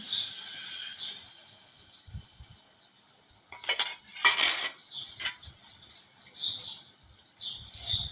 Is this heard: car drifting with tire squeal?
no